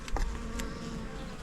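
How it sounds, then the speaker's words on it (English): Honey bees hum continuously around an opened hive during an inspection, a soft, low buzz with brief louder passes of individual bees near the listener. "There are some bees in it."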